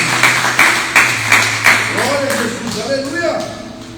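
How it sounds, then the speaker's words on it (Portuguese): A church congregation claps in a few sparse, rhythmic beats that fade quickly, followed by voices speaking. "Você pode aplaudir a palavra do Senhor?"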